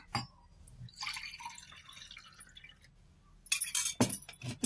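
Leftover Tang drink mixture trickles and drips into a glass nearby, faint at first, then a few brighter clinks and splashes near the end.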